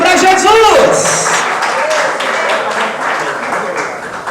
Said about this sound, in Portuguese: Palmas! Palmas alegres para Jesus!